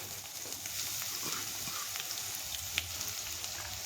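Cumin and mustard seeds sizzle in hot oil with a steady, dense frying hiss and scattered tiny pops and crackles, close and moderately loud.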